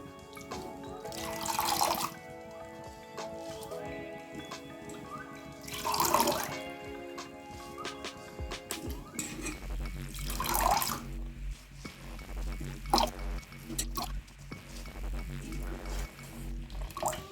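Spinach leaves washed under a running kitchen tap for a Kerala-style jackfruit seed and spinach dish, water splashing steadily with louder surges of flow and handling of wet leaves, no talking.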